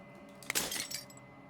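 Glass shatters in the video game Slay the Princess: one sharp crack followed by a short spray of bright tinkling shards that fades quickly, over a quiet steady background hum.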